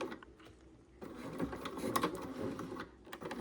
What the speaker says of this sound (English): And then I am going to back stitch here. just a few stitches.